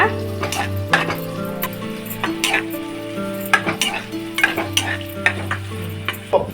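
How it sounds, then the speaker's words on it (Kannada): Onions and green chillies fry in a pan for spicy chicken chops, with a loud close sizzle and a steady run of spatula stirs and scrapes against the pan under background music. "ಈರುಳ್ಳಿ ಬ್ರೌನ್ ಆಗೋ ತನಕ ಹುರ್ಕೊಳ್ಳೋಣ. ಈರುಳ್ಳಿ ಜೊತೆ ಹಂಗೆ ಮೆಣಸಿನ್ಕಾಯಿ ಹಾಕ್ಬಿಡೋಣ."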